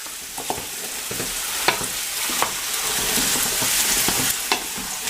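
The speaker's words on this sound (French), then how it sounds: "Je vais remuer." Browned beef for boeuf bourguignon sizzles steadily in a pot as flour is stirred in, with a constant frying hiss and occasional scraping clicks of the spoon.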